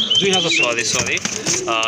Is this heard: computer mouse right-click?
no